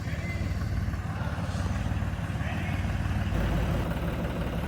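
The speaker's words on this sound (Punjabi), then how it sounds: "ਰਾਜਾ ਟਰੈਕਟਰ ਹੈ ਭਾਈ ਇਹ ਰਾਜਾ ਕੋੜਾ ਟਰੈਕਟਰ" Close, loud idling of a Raja tractor engine, a continuous low diesel thrum with regular pulsing firing beats and no voices over it.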